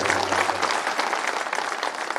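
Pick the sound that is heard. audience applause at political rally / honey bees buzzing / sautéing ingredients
audience applause at political rally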